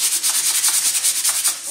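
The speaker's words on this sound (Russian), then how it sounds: "шлифовка должна быть однотонная, не должно быть пятен каких-то" An armour elbow piece being sanded: quick, regular back-and-forth rasping strokes, close and fairly loud, with no voices.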